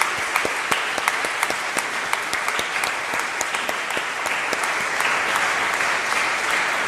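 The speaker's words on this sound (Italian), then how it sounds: "A tutti farei un applauso perché sono qua ragazzi." Dense, steady applause from a large audience at an annual convention of Friulians from around the world, many hands clapping continuously and loudly throughout with no talk.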